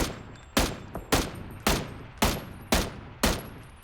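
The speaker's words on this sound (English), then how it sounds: "Just keep tap firing everyone." A gun in a shooting video game is tap-fired: seven sharp, loud single shots at an even pace of roughly two per second, each followed by a short decaying echo, with no talking over them.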